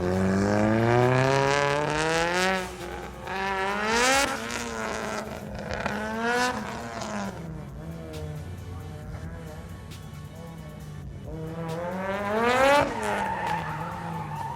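A 2006 Mitsubishi Evo IX RS time attack car with a built engine and Garrett GT30 76 turbo howls through repeated high revving pulls and gear shifts, loud and strained, with tire noise between bursts.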